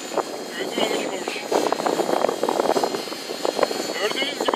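A small model helicopter flies nearby with a steady, high buzzing whine, while people talk over it throughout.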